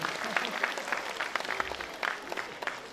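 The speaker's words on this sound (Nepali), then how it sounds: "दक्षिण एसियाली कीर्तिमानी थापा वैकुण्ठ मानन्दर हाम्रो बिचमा हुनुहुन्छ, ताली बजाउनुहोस् त भन्नै पर्दैन।" An audience applauds for South Asian record-holder Baikuntha Manandhar at a solo musical program, a brief burst of scattered, fairly distant clapping with some crowd murmur.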